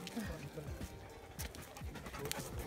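A dog pants rapidly and steadily up close at the summit of Table Mountain in Cape Town, with wind and people talking nearby.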